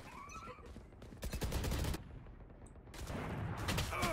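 Gunfire in the Valorant video game, with a shotgun fired at long range: several sharp, loud blasts come in clusters among other game effects.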